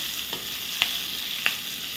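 Green chillies and curry leaves crackle in a hot oil tempering in a kadhai, a steady close sizzle broken by a few soft scrapes of a spoon stirring through the pan.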